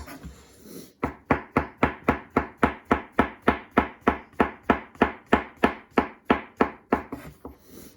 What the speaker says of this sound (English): We're just going to give these some nice thin slices, and we're going to go through all of them.